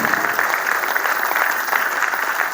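An audience claps after a Hindi poem is recited at a Teacher's Day comic poetry gathering, a dense, sustained burst of applause from a sizeable crowd, loud and even throughout.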